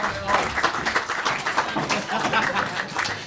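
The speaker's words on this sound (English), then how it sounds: "Round of applause for Andy." An audience applauds Andy after a match, with steady dense clapping throughout and a few voices mixed into the crowd noise.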